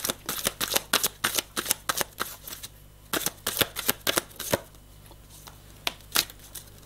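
Tarot or oracle cards for a reading are shuffled by hand at close range, a quick series of crisp riffling snaps and slaps in bursts with short pauses, no talking.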